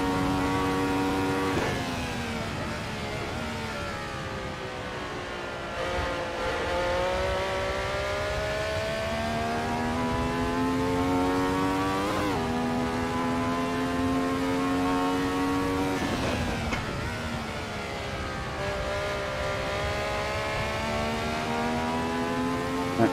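Ferrari 312T racing car engine in a racing video game, a steady high-pitched wail that climbs and drops with each gear shift and throttle change, loud and continuous with no talking.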